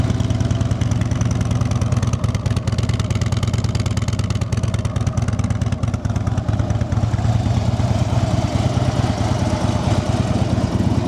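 A 2013 Harley-Davidson Road King Classic FLHRC with factory exhaust idles steadily up close, its loping low rumble pulsing evenly throughout with no voices.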